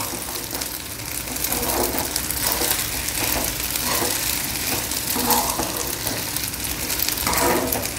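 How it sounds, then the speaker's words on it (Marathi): Sago pearls are lightly sautéed in a pan for yogurt sago, giving a steady, close sizzle with soft scraping of stirring running throughout. "फक्त तो कच्चा न वाटता थोडा शिजला की खायला छान वाटेल, म्हणून हलका परतून घ्यायचा।"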